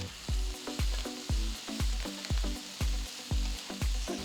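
Chopped onions sauteing in a pan for tomato mint chutney, a steady sizzle broken by a regular rhythm of sharp spatula knocks, about ten strokes close up.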